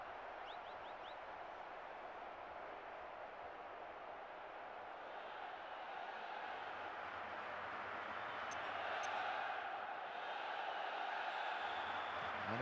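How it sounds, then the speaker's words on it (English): Capacity crowd at a Milan versus Siena football match, a broad, distant roar of the stadium that holds steady and swells slightly, with faint whistles near the end. "There is nowhere quite like this for noise. The capacity crowd getting behind their team."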